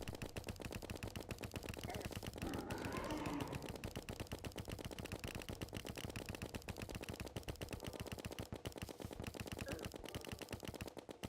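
Rapid, relentless automatic gunfire from a purchased gun in Terraria, fired at Skeletron in a boss fight, a dense continuous rattle of shots that stays loud and steady throughout with no talk.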